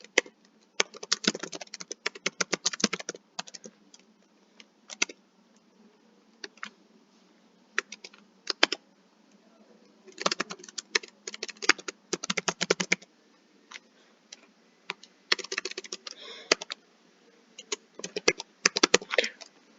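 Typing on a computer keyboard while entering lead details into a form, close and clear, in irregular bursts of rapid key clicks separated by short pauses, with no talking.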